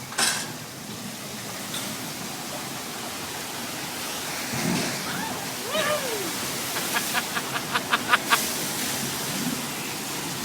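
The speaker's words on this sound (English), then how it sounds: "we got a flash flood heading our way" Steady broadband rush of heavy flowing water from a simulated flash flood on a Universal Studios tour, loud and continuous, with a few brief splashy bursts and a run of short rhythmic clicks near the end.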